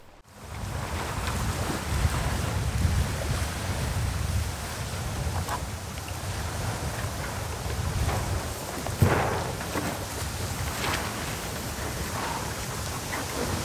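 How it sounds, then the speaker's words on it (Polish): Wind sweeping over Zegrze lake water on an autumn day in November, a steady, fairly quiet rush of gusts and lapping waves with one brief louder bump midway. "Wiatr super"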